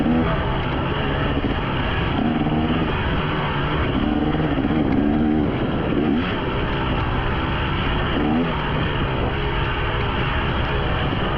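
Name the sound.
dirt bike engine during off-road race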